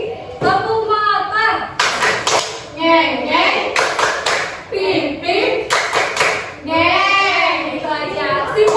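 A primary school class doing a clapping game called tepuk merotot, with sharp rhythmic hand claps in short bursts between stretches of an adult woman and children chanting and talking.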